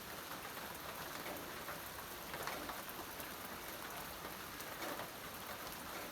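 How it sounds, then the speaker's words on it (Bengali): Steady rain falling and pattering on surfaces, a dense even hiss that continues for the whole stretch, with no voices. "বৃষ্টি তো পড়তেছে"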